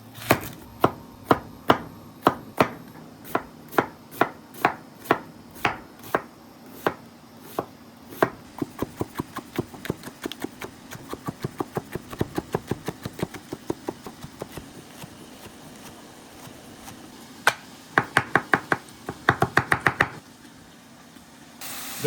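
A knife chops vegetables on a cutting board during chili prep, sharp rhythmic strikes in quick runs, first spaced and even, then a denser flurry, with short fast bursts near the end.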